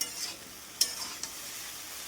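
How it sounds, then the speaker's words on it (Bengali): Okra stirred and fried in a little oil, with a soft steady sizzle and a few sharp scraping clicks of a utensil against the pan; no voices. "ভেন্ডি আবারও একটু নেড়ে চেড়ে ভেজে নেব অল্প তেলেই"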